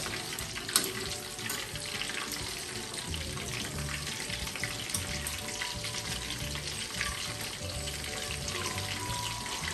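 Dynamite lumpia, meat-filled spring rolls, frying in oil as they are turned one by one, with a steady close sizzle and faint crackle throughout.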